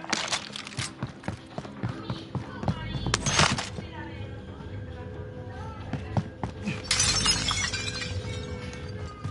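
Glass shattering in a first-person shooter game, several sharp breaking crashes scattered over a busy bed of game noise, footsteps and clatter.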